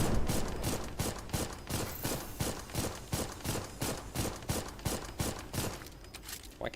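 A minigun in the Armored Core video game fires a long, steady stream of rapid rounds, each shot a sharp evenly spaced burst, loud and close, tapering slightly near the end.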